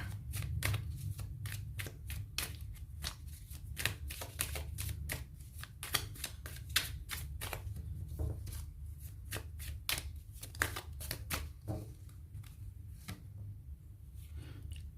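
Tarot cards being shuffled by hand, a steady run of rapid crisp riffling snaps and soft slaps close to the microphone over a low background hum, with no talking.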